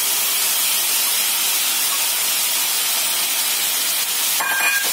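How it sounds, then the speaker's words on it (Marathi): Finely chopped cabbage dropped into a hot pan while cooking Maharashtrian kobichi bhaji with chana dal, giving a loud, steady broadband sizzle that holds constant throughout, with a brief brighter crackle near the end. "बारीक केलेली कोबी आहे ती टाकणार आहोत"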